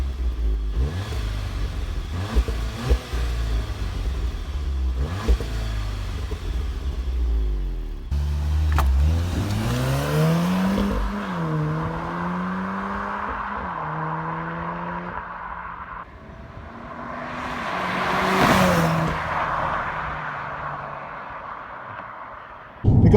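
A 2017 facelifted Audi S3 (8V) sports car revs hard, its engine and exhaust rising and falling through several loud, close pulls, with a droning idle between revs and no talking over it.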